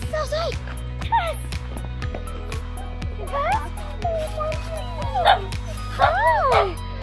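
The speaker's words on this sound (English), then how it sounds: "Their dogs are so cute." Dogs bark, yip and whimper repeatedly outdoors near the listener, high excited calls rising and falling over a steady low hum, with people talking and calling out amid them.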